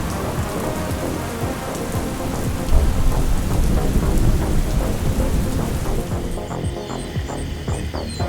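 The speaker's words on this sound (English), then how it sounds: "The rain is coming down hard again." Heavy rain pouring down at Fort Sill in Lawton, Oklahoma, a dense, steady hiss and patter on surfaces with a deep thunder-like rumble swelling in the middle, continuous and loud.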